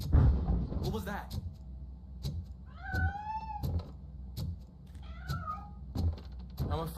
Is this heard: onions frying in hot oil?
no